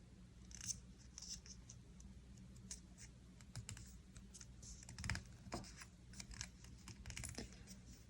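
Scissors snipping a corner and a square off a piece of paper for a craft, with soft, close cutting clicks and paper scratches over a low steady background hum.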